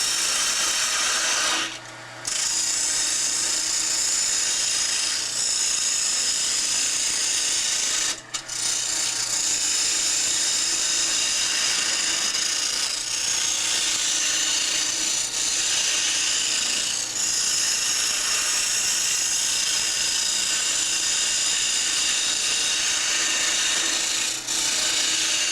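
A scraper cutting a spinning wooden top on a wood lathe gives a steady close rasping hiss that runs almost unbroken, with two short pauses where the tool lifts off the wood.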